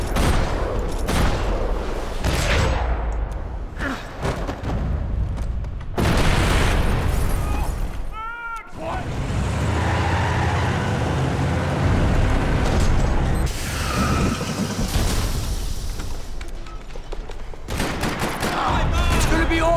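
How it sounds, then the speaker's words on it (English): Dense bursts of gunfire and explosions in the video game Max Payne 3 crackle and boom almost continuously in a parking lot, loud and chaotic, with a few brief pauses and some talking mixed in. "Another parking lot rattling with gunfire."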